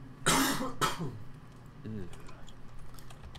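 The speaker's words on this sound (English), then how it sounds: "Excuse my coughing." Two sharp, loud coughs come close together near the start, followed by quieter throat noises and soft keyboard typing in the background.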